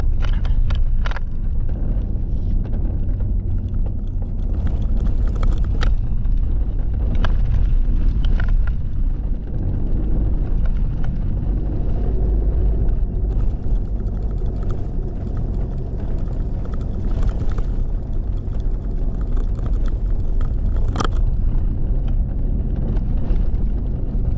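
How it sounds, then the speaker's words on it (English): A vehicle drives along an outback road on the Strzelecki route toward Burke's grave, giving a continuous low rumble of engine and tyres with rattles and occasional knocks from the rough surface, and nobody speaks. "This is driving out to Burke's grave"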